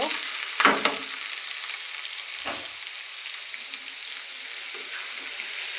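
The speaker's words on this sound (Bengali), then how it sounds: "পেঁপে এবং লাউ দুইটা একসাথে মিক্স করে আজকে নিরামিষটা সবজি ভাজি করতেছি" Papaya and bottle gourd pieces fry together in a pan as a vegetarian stir-fry, giving a steady sizzle. A few sharp clatters of stirring come near the start and again later.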